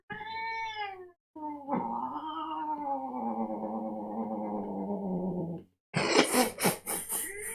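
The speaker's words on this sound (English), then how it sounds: "She plays the cat pipes every day." A cat gives loud, drawn-out yowling meows: a short cry, a brief pause, then one long wavering howl, followed by a burst of rougher, choppier sounds at the end.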